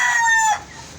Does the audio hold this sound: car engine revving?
no